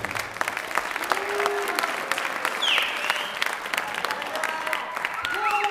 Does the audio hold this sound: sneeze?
no